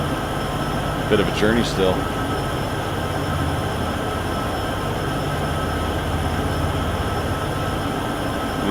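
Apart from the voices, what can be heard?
freight locomotives hauling grain uphill, from video game Train Sim World 6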